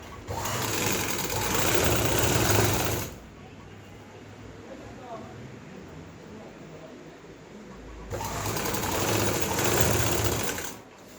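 A sewing machine stitches lace onto a fabric sleeve in two steady, close, whirring runs of about three seconds each, with a quieter pause between them.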